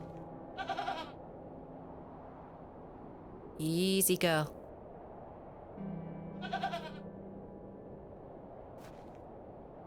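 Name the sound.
goat bleating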